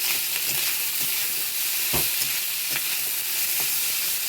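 Cooked rice fries with onions and green chillies in a pan, giving a steady, hissing sizzle close by, with a few soft stirring knocks now and then.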